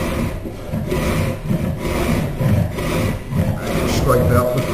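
A scratch tool drags along mahogany clamped in a vise, cutting a bead with repeated rough, rasping strokes, loud and close, while a voice talks intermittently over the scraping.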